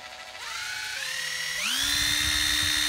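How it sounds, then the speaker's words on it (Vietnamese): A used Hitachi 12V cordless drill driver runs unloaded, its whining motor climbing through speed steps before holding a steady high pitch, close and continuous. "Đây là con máy khoan bắn vít Hitachi 12V"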